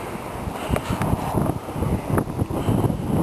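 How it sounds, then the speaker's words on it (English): A strong wind storm in Edmonton in September buffets the microphone with continuous loud roaring and gusty rumbles, no voices. "Really strong wind."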